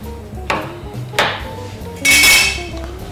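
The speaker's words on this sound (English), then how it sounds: "You take these mushrooms, you're just going to slice them." Knife slicing mushrooms on a board in a home kitchen, three sharp cuts knocking against the board at uneven intervals, each ringing briefly, with no talk.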